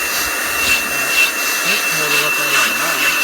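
Leaf blower blasting dust out of a dirty car cabin filter in a workshop, a loud continuous rushing whoosh that wavers slightly, with faint voice sounds underneath.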